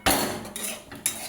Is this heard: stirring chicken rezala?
yes